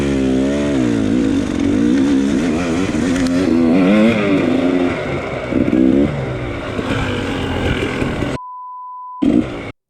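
A dirt bike engine revs hard and loud during a hard enduro race in Tennessee, its pitch rising and falling in rapid surges close by before cutting out briefly near the end.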